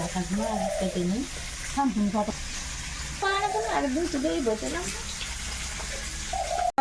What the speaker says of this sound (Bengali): মাছ ভাজা ভাজা কিছু তো সময় লাগছে